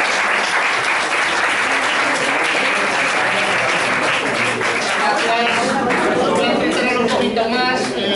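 A lecture audience in Salamanca breaks into sustained, loud applause, a dense continuous wash of clapping with some chatter mixed in, holding steady throughout.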